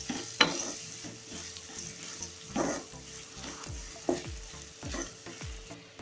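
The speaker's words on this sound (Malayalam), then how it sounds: "ഇതൊന്ന് ഇളക്കി കൊടുക്കാം." Turmeric, pepper powder and garam masala frying in a pan for a Kerala okra stir-fry, stirred with repeated spoon scrapes and clacks over a low, steady sizzle, close and moderately quiet.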